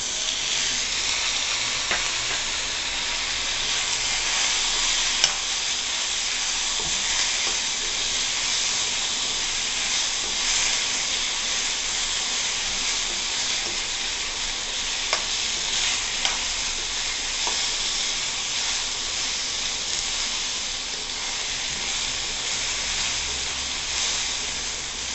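Tomato pieces frying with onions in a pan for an eggplant curry, giving a steady close-up sizzle and hiss that runs on evenly, with occasional light stirring clicks and no talking.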